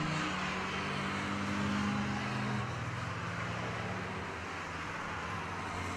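National Hot Rod race cars lap a circuit in practice, a loud rumbling engine roar that holds strong, then slowly eases as the cars pull away, with no voices.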